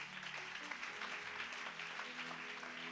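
A church congregation applauds in a steady dense wash of clapping, sustained and fairly faint, with voices murmuring and calling underneath.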